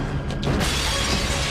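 A stained glass roof shatters in a sudden loud crash that trails into a scattering of broken glass, with no voices over it.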